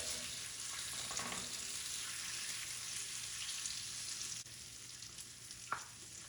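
Butter sizzles and fries steadily in a pan while making Ethiopian breakfast dishes, a soft, continuous crackling hiss with a faint clink near the end.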